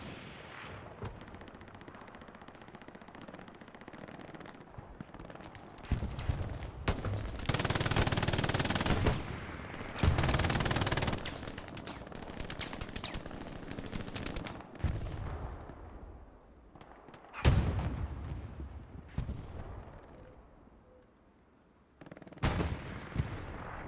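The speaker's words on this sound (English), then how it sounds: "MGs, man, can be so powerful" Machine gun fire in the video game Hell Let Loose on a night map at Foy, heard as loud rattling bursts, some distant and some close, separated by quieter pauses.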